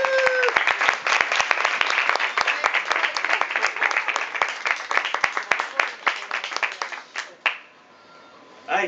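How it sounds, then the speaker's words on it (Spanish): Steady applause from an audience at a short-film award ceremony, dense, even and close, lasting several seconds before stopping abruptly, with a few voices at the end. "¡Un aplauso, venga!"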